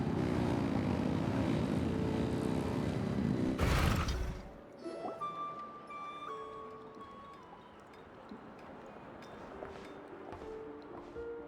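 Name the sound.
engines revving, from the video game Genshin Impact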